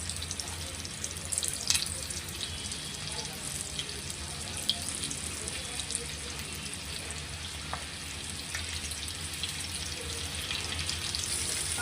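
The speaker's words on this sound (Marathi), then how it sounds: "तेल ठेवले तापवून. आता हे कारले त्यामध्ये टाकायचे आपण." Stuffed bitter gourd (karela) frying in hot oil, a steady broadband sizzle and crackle running continuously and fairly close, with occasional small pops and clinks, no talk.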